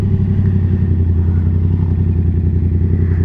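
Yamaha XSR700 motorcycle being ridden, its engine a loud, steady low rumble with a continuous throb close up and no talking.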